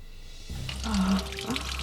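Water running and splashing inside a flooded sailing boat moored in Dartmouth, a close, steady gush that starts abruptly after a brief quiet, with voices talking over it.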